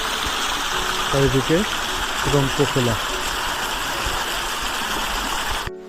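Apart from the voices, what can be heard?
waterfall of a mountain stream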